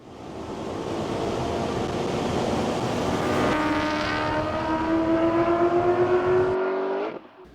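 A loud Aston Martin V8 Vantage race car on a track, its engine roaring and rising in pitch as it accelerates, then cutting off abruptly, with no talking.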